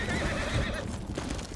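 A horse in the Ghost of Tsushima video game neighs loudly and close, a drawn-out whinny over a few hoofbeats on the ground.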